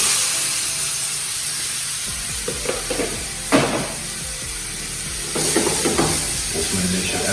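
Vegetables cook in olive oil in a skillet for a sweet potato hash. They give a steady sizzle and hiss, broken by a few clattering stirs and scrapes.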